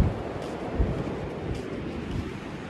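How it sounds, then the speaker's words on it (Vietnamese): Large ocean waves roll in at Chau Tan beach during the stormy rainy season, a steady broad roar of surf mixed with wind buffeting the microphone, with no voices. "sóng rất là lớn luôn."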